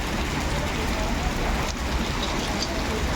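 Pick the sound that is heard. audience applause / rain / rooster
rain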